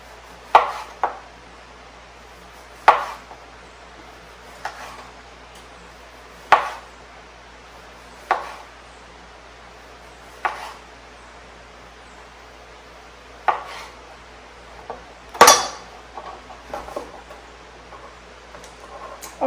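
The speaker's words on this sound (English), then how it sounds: "So I'm just slicing my cookies here." Knife slicing through chilled lemon shortbread cookie dough, about a dozen sharp, separate cuts spaced a second or two apart, each landing as a crisp tap on the board, with quiet near-silence in between.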